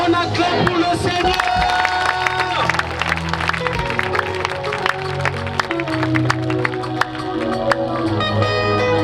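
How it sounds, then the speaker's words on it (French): A crowd at an evangelism campaign cheers and applauds, steady clapping and whoops building into a loud, sustained ovation with some voices and babble mixed in. "On acclame pour le Seigneur."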